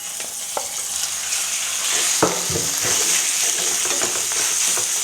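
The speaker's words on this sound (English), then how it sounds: "pan fry the pork" Pork belly pan-fries with a loud, steady, close sizzle, broken by a few utensil scrapes and knocks as it is moved around the pan.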